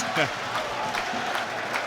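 Football crowd at a Wrexham v Stockport County match cheering and applauding after a goal-like moment, a steady roar of clapping and voices with brief swells, while a commentator talks over it.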